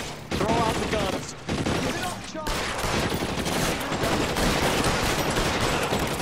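Dense, sustained rapid gunfire from a video game police shootout on a rooftop, loud and continuous with brief gaps, a voice shouting over the opening moments.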